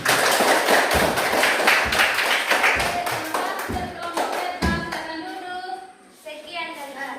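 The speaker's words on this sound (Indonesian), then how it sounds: "Oke, tepuk tangan." A school class claps after a group presentation on insect metamorphosis, dense brisk applause from many hands filling the room and tapering off, with children's voices chattering over it toward the end.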